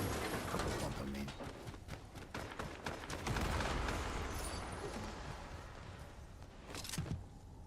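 A pump shotgun in Fortnite fires a handful of sharp, loud shots with clicks of the pump action between them, set against busy in-game noise while a voice talks in the background.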